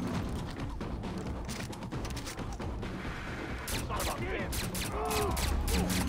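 Gunfire in Far Cry 3 during a shooting mini-game, with scattered sharp shots and bursts over a busy, noisy game background that grows louder toward the end.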